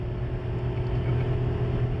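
An Opel Corsa engine on the Ring hums as a steady, low drone right after a shift into fourth gear, heard briefly from inside the cabin.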